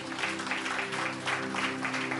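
A church congregation gives a round of clapping in honor of a woman who serves the community, a steady moderate wash of many hands with a low hum beneath it.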